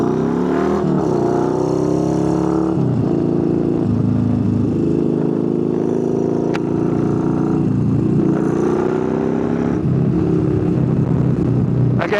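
A Yamaha Bolt motorcycle cruises at about 50 mph on a Southern California canyon road. Its engine drones loud and steady with shifting pitch throughout, mixed with wind rush and no talk.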